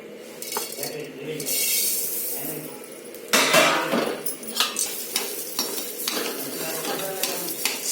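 Coriander seeds roast in a little oil in a kadai while a spoon stirs and scrapes against the pan, bringing soft sizzling and a run of metallic clinks and knocks close by.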